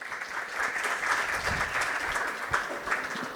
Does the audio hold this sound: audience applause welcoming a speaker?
yes